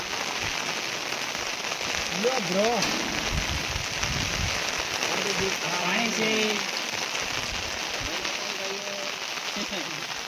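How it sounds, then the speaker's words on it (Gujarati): Rain falls steadily in a waterlogged outdoor spot, a dense, continuous patter with people talking intermittently over it. "વરસાદનો માહોલ તમે જોવો."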